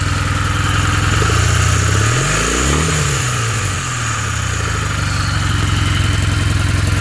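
A 2011 Kawasaki W800 motorcycle engine with its airbox snorkel removed revs loudly and close, rising and falling once mid-clip before settling back to a steady, throaty idle.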